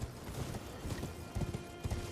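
Horse hooves clop in a quick, uneven gallop across the ground in the Elden Ring video game, soft and fairly quiet with a few louder strikes standing out.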